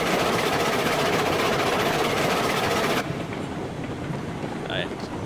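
A Climax geared steam locomotive pulls a heavy train in the video game Railroad Online, a dense, loud mechanical chuffing rumble that drops abruptly to a quieter clattering rumble partway through.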